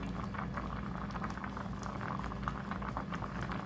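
A raw mango and jaggery mixture boils in a pan, bubbling thickly and continuously up close with a dense, even patter of popping bubbles.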